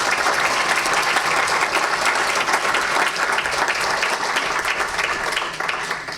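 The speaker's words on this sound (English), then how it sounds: "let's give a big round of applause for our presenters" An audience applauds presenters at the close of a university-hosted talk in Iowa, dense steady clapping filling the room for several seconds before starting to thin out at the end.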